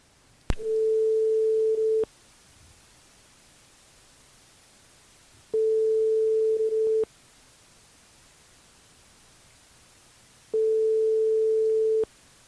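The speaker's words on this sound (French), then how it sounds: "C'est parti, ça sonne." A telephone ringback tone on a dialed call sounds three times as a steady pure buzz, each about one and a half seconds long and separated by roughly three and a half seconds of quiet line.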